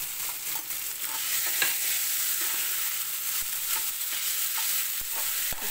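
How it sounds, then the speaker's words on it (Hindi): Amla, Indian gooseberries, lightly roasting in a pan while being stirred, a steady close sizzle with soft repeated spatula scrapes and a few sharp ticks. "पहले इसे डाल के हम थोड़ा सा भून लेंगे"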